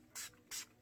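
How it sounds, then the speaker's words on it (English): Two quick, soft hissing bursts of a makeup finishing spray, each about a tenth of a second, misted close by in a quiet room with no talking. "I'm gonna use this finishing spray."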